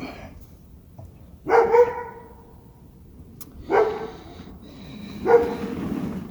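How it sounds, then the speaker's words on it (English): A neighbor's dogs bark outdoors at some distance, with three separate barking bursts spread over a few seconds against a quiet background. "the neighbor's dogs are out"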